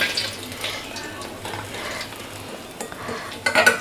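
Oil sizzles and crackles steadily in a pan as stingray fish fries, with occasional scraping and clinks of a utensil, louder toward the end.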